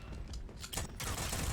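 Semi-automatic gunfire in the shooter game Rogue Company, a burst of loud close shots with bright cracks, then a denser stretch of firing toward the end.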